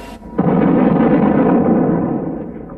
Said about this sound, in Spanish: lo alcanzó la explosión de una granada.